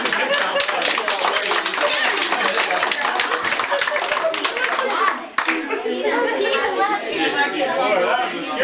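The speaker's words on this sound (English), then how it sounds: "Let's give Kathy and Jason a big round of applause" A small family audience claps enthusiastically after a magician's trick at a home holiday gathering, sustained applause mixed with children's voices and chatter, briefly dipping then resuming.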